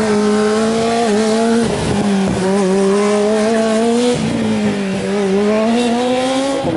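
A student formula race car at an endurance event corners at full steering lock with its front tires sliding, the loud, close engine whine rising and dipping in pitch over a continuous scrubbing tire squeal.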